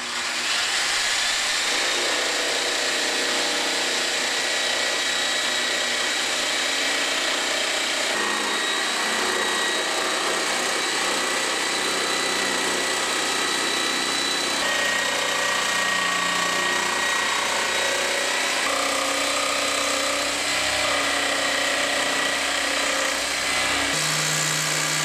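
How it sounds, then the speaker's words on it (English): A jigsaw cuts steadily through a wooden board along a curve while a prop sword base is being made, giving a continuous loud buzzing whine that shifts in pitch as the cut progresses, with no talking. "Jigsaw's ready to go. We've got a nice blade in here."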